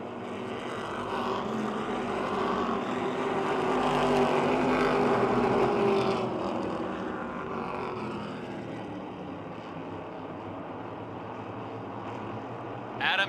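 Stock cars race at Motordrome Speedway, their engines a loud, sustained roar that swells as the pack passes and then fades back to a steady drone. An announcer talks over the noise.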